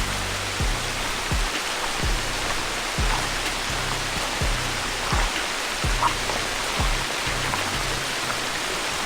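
Rain falls near a hidden waterfall on a rocky streambed, a steady broadband hiss of water with faint low thumps repeating through it and no voices.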